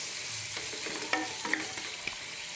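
Pork stirred with browned onions in a pan for sinigang, a soft sizzle under a few scraping strokes and clinks of a utensil against the pan, close and quiet, with no talking.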